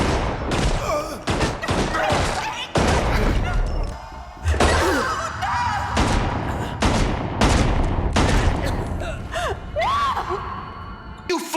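Loud bursts of gunfire crack in rapid volleys, mixed with crashing impacts and gasps, chaotic and close.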